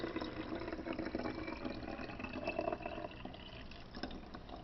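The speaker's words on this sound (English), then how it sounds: "So all you do is you get your water and put as much as you want in." Water poured from a container into a toy bottle, a steady close liquid splash and trickle running throughout without pause.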